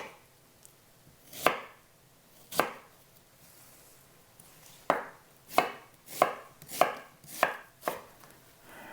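A kitchen knife slices onion into thin strips on a cutting board, giving two isolated chops followed by a quicker run of six crisp, close cuts over a quiet background.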